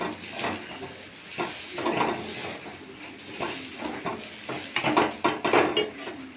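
Rice with cinnamon and cardamom frying in a little ghee for pulao, stirred in a pan with repeated scraping and clinking of a spoon over a steady sizzle, growing busier toward the end.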